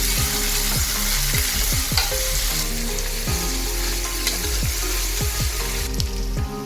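Sliced onions frying toward golden for a beef curry, a strong continuous sizzle with repeated scraping strokes of a stirring spoon close by.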